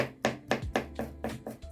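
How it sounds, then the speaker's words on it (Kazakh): A knife finely chopping garlic on a board, with about six crisp, evenly spaced taps in a steady rhythm, heard close and alone. "Чесногымызды да майдалап турап аламыз"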